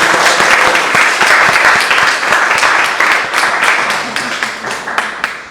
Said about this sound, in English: please give a round of applause for Austin